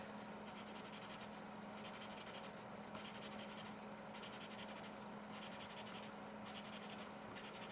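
A Grande graphite stick scratches across paper in steady back-and-forth strokes, each a bright rasping hiss followed by a brief pause, close and quiet, with no voices over it.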